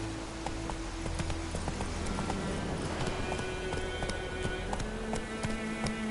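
Roach, a horse in The Witcher 3: Wild Hunt, gallops in quick rhythmic hoofbeats that ring out close and clear over a low ambient bed, without talk.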